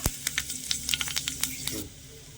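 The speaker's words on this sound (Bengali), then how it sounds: "তেল গরম হয়ে গেলে দিয়ে দিচ্ছি পাঁচ ফোড়ন তেজপাতা শুকনো লঙ্কা" Panch phoron, bay leaf and dry red chilli go into hot mustard oil in a kadai and sizzle, with a sharp initial hiss and a run of quick crackles and pops that die down after about two seconds.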